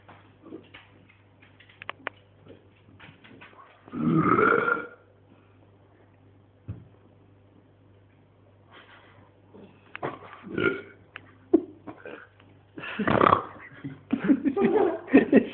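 A man burping several times, loud drawn-out belches at intervals with quieter vocal sounds between, recorded close over a steady electrical hum.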